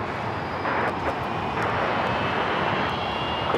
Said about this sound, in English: taking off to Monterrey on the A321neo.